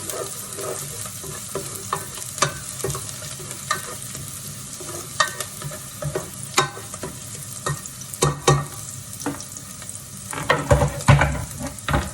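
Garlic sizzles in a hot pot while utensils scrape and clack against the metal at irregular intervals, the frying hiss running underneath.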